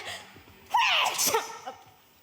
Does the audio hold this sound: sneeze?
yes